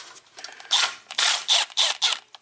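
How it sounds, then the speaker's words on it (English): A ratchet wrench working the shifter pinch bolt loose on a 1991 Ford Probe V6 5-speed: a rapid run of loud, close, rasping ratchet strokes in short bursts, with no one talking. "Alright, so we got to get this pinch bolt out."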